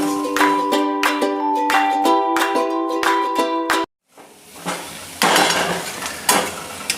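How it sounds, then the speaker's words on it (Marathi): Red chilli, black masala and peanut powder being stirred for fried cauliflower, with repeated ringing clinks of a metal spoon against a steel bowl, then scraping and sizzling in a pan. "आता हे परत मस्त छान मिक्स करायचं"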